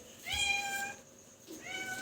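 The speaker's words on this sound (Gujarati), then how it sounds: "એ જો મને એક મીંદડું આવ્યું છે" A cat meowing nearby, two clear drawn-out meows separated by a short pause, with a quiet background.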